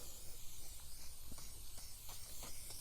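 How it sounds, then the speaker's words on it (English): Spray glue being sprayed onto the foam of a broken couch arm during a furniture repair: a faint, steady hiss of aerosol lasting the whole moment, close by, with no talking over it. "what we're going to want to use is some spray glue"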